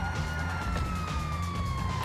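Police car siren in the GTA 5 Online game, a loud continuous wail sweeping steadily close by, with no talk over it.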